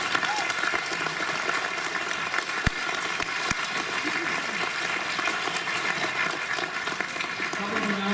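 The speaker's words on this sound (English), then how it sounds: "So let's give them one more round of applause." An audience at a high school winter band concert applauds the students, a steady dense wash of clapping that holds evenly throughout, with a couple of sharp knocks partway through.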